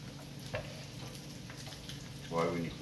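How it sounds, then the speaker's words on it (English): Bacon sizzles and fries in a pan, a soft steady crackle with a louder sputter near the end. "That's why when you pull it off, you'll see it's still boiling. It's actually still cooking."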